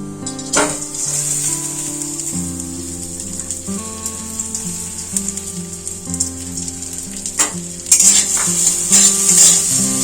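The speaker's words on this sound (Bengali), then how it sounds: "মুগের ডালটা হালকা করে ভেজে নেব।" Mung dal fries in hot ghee in a wok, giving a continuous crackling sizzle with occasional stirring clatter, close and steady throughout, over a faint tonal background.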